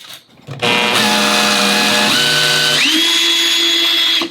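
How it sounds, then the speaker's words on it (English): A power drill whines steadily at high speed as it bores into a wall, its pitch shifting a few times, loud and close with no talking. "Mark it really well, because you're going to drill through it."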